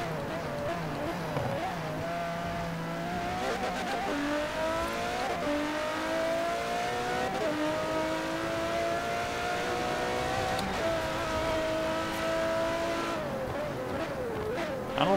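A race car in Forza Horizon 4 accelerates loudly and steadily, the engine note climbing through the revs with brief dips at several gear shifts, close and continuous throughout.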